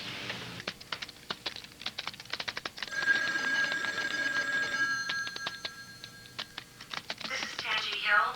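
A desk telephone rings in an office, a warbling bell tone sounding between quick bursts of keyboard typing, with people talking nearby.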